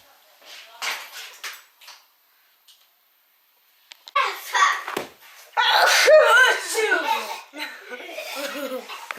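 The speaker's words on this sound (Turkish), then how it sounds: "yetişkinler niye böyle hapşır diye hapşırıyorsunuz" Children make exaggerated, voiced sneezes at home, with sharp bursts mixed into lively chatter and giggling laughter.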